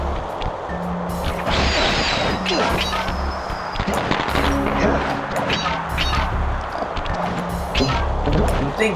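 Fireworks in the Sly Cooper video game, a dense continuous barrage of bangs and crackles layered with game music tones, loud and steady throughout.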